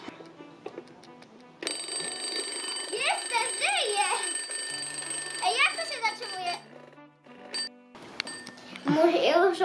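An electronic alarm clock plays a warbling, chirpy melody in repeated phrases, close and fairly loud, with a voice briefly heard near the end.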